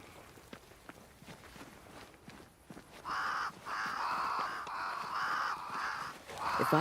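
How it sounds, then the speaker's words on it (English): Crows caw repeatedly in the video game Banishers: Ghosts of New Eden, a series of harsh, fairly loud calls in quick succession after a quieter stretch of faint footsteps and ambience. "Crows. They flock to that great tree up there."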